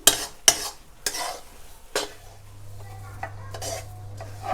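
Cooked flour for magas laddu scraped out of a hot pan into another vessel with a metal utensil: sharp clinks and scrapes early on, then a steady low hum and faint rustling.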